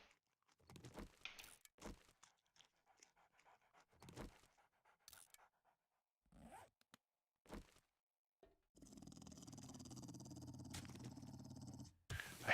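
A dog in the game 7 Days to Die, Alpha 19, growls and pants in short scattered bursts, moderately close, followed by a long steady noisy stretch of panting near the end.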